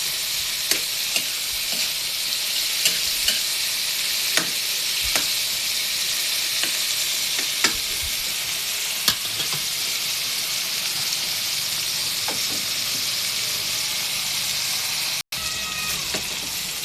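Tomatoes fry in a pan for sarsyadong bangus, a steady hissing sizzle with repeated clicking spatula strokes against the pan at irregular intervals, heard close with no talk.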